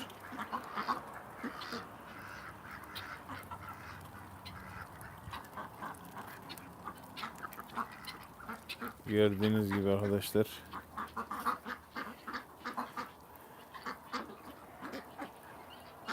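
Pekin ducks on a cold day at feeding, with a burst of loud harmonic quacking near the middle over steady flock noise and someone talking throughout.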